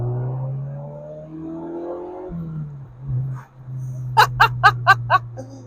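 A car's engine drones steadily at a low, even pitch while driving, with a brief dip partway through. A burst of short, sharp laughter rises over it near the end.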